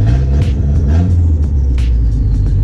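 Dodge SRT-4 engine rumbling loud and close on the street, a deep steady idle with slight throttle swells running throughout with no talk.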